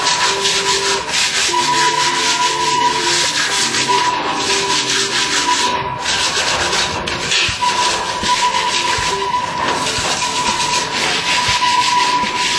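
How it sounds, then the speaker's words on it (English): Sandpaper rubbed hard over a rusty metal bed frame, a loud, continuous scraping rasp with steady back-and-forth strokes throughout and no talking. "We need to remove with sandpaper."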